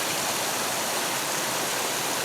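A clean river rushes past in a steady, dense hiss of flowing water, close and constant with no voices.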